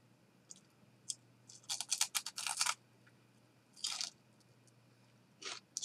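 A coconut cream ball with a thin, crunchy shell from trail mix is bitten and chewed close up, giving several sharp crunches in quick bursts with quiet pauses between them.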